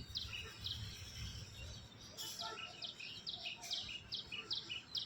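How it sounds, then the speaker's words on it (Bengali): Morning birds chirp in scattered short, high calls, faint and somewhat distant, over a soft steady outdoor background. "পাখির কলরব"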